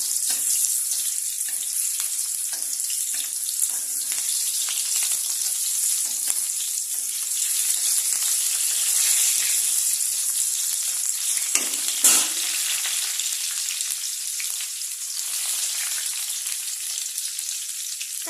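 Onions frying in a pan for chicken curry, a steady close hiss and crackle of hot oil that runs throughout with occasional stirring scrapes and a brief louder clatter.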